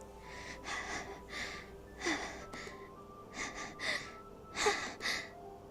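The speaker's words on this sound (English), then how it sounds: "It sounds like breathing. A sharp inhale, like someone is sucking the air through their teeth." Repeated sharp breathing sounds in the Doki Doki Literature Club video game, a series of short, hissing inhales and exhales in irregular bursts, fairly quiet and close, with no talking.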